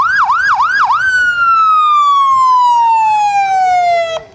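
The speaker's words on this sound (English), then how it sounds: "Siren works good, doesn't it?" A loud siren from a county sheriff's car in a parade, starting with three quick yelping whoops, then a long wail that slowly falls in pitch before cutting off.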